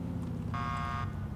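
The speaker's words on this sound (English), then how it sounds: "do you not hear me honking?" A car horn in the video game Grand Theft Auto IV gives one short, steady honk of about half a second over a low, rumbling engine and traffic background.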